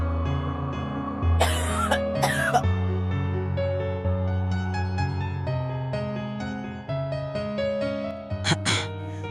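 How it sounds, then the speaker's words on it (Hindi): Two quick, light coughs from an elderly woman close together over soft sustained background music, followed later by another brief cough. "दादी हल्की हल्की खांसी के साथ कमरे से बाहर आती हैं"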